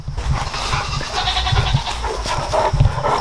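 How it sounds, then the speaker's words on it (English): Goats on a farm bleat insistently for breakfast, several overlapping calls from a group, loud and close amid general barnyard noise, without talk. "the goats are yelling"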